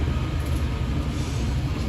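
A Universal Studios Hollywood studio tour tram rolls along, a steady low rumble and road noise filling the space evenly with no talking over it.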